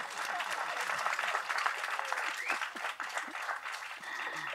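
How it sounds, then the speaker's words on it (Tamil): Audience applause fills a film audio launch event, steady dense clapping from a large crowd lasting throughout, loud and continuous with some voices mixed in. "அதே மாதிரி இந்த படம் வெற்றி அடைய அனைவரும் ஓங்கியவர்கள் கைத்தட்டல் கொடுங்க"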